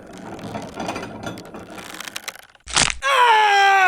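A torture rack's crank turns with dense ratcheting clicks and grinding gear noise, then a sharp crack, followed by a loud, sustained groaning cry.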